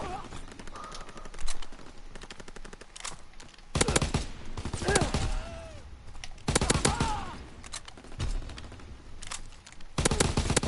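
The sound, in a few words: machine pistol gunfire in a Star Wars video game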